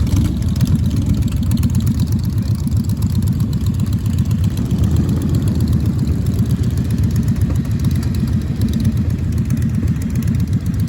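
Many motorcycle engines idle and rumble together at a Distinguished Gentleman's Ride gathering in the Solent, UK, making a loud, dense, continuous low throb that stays steady throughout with no talk above it.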